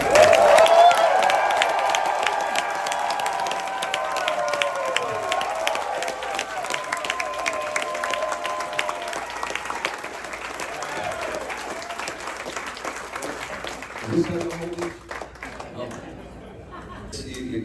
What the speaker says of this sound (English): Let's give a applause to the one and only Alice Cooper.